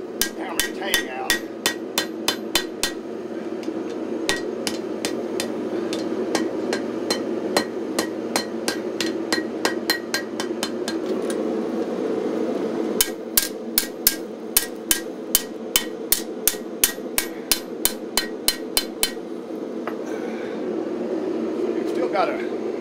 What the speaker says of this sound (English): I'm going to do most of the blade by hand now, I think, with a hand hammer.